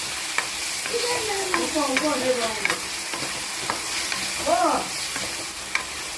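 Tomato paste for a mushroom curry sautés in a pan as a soft sizzle goes on under repeated scraping and stirring strokes. A few faint clinks and a brief high squeak sound close by.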